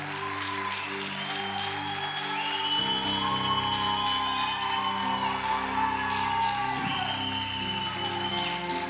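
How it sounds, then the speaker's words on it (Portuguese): An audience at a church service applauds loudly and steadily, continuous clapping with a few whoops and shouts, while sustained musical tones play underneath. "Não, você tem que aplaudir com muita força,"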